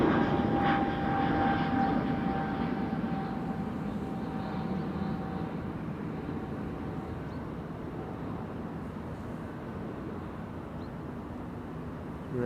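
An Air Malta Airbus A320neo at Amsterdam Schiphol gives a steady, fairly distant engine roar that holds through the whole stretch and slowly fades, with a faint tonal whine above it and no talk.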